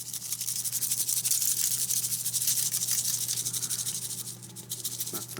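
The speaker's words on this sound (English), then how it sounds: "the first thing she's putting on there is the Mediterranean, and just sprinkle it all over it" Kinder's Mediterranean seasoning is sprinkled all over a pork loin, giving a close, continuous granular hiss and patter over a faint steady hum, with no talk.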